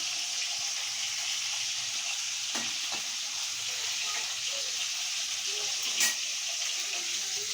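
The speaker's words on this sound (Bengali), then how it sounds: "মাছগুলো ভেজে নিই।" Fish sizzles and fries in a pan with a steady, bright hiss that runs throughout, with occasional soft clinks and stirring scrapes and no talking.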